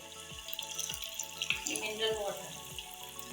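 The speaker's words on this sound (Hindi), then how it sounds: "अब इसमें हम पानी डालेंगे, आप अपने हिसाब से डालें।" Mineral water poured into a simmering kofta gravy in a pan, a splashing, gurgling pour over a few seconds with faint sizzling and kitchen clatter underneath.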